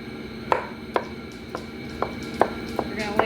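A knife chops olives on a cutting board, with seven or eight sharp, irregularly spaced knocks over a quiet kitchen background.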